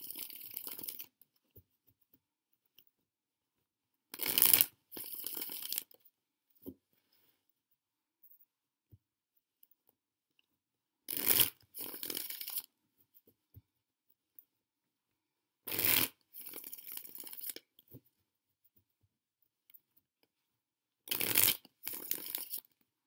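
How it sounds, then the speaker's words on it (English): A deck of Wheel of the Year tarot cards is shuffled by hand in several short, crisp riffling bursts separated by quiet pauses, close and clear with no talking. "Okay, so I'm going to go ahead and shuffle the deck."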